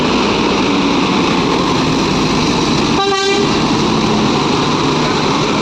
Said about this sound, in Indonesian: Bus JRG trip pertama berangkat menuju ke Medan.